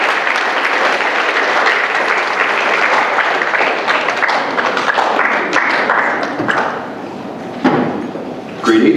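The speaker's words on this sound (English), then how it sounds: "Round of applause for Mr. Amadrid and Mr. Johansson." Audience applause fills a school academic awards ceremony at Spruce View School, a steady dense clapping that holds for several seconds before thinning slightly, with a few louder claps near the end.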